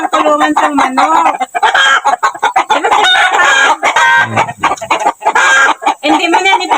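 Chickens in a rural Philippine yard cluck loudly and close by in busy, overlapping bursts, with a rooster-like call mixed in.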